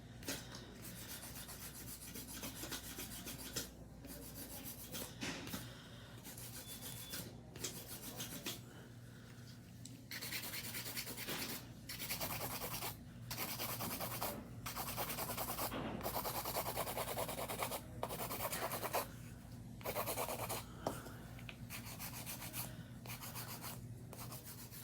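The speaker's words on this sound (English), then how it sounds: "a nice hand filing technique will definitely save you a little bit of time" Acrylic nails are shaped with a hand file in rapid back-and-forth rasping strokes, steady and close, with brief pauses between passes and no talk.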